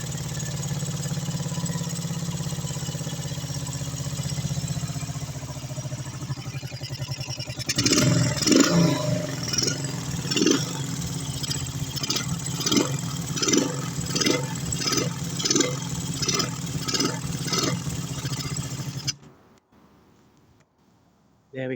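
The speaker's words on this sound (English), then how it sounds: "I'm just going to keep starting it up, go through some hot and cool cycles on it" A Honda XL125 motorcycle engine idles, then roughly catches and runs with an uneven, pulsing clatter before cutting out abruptly near the end.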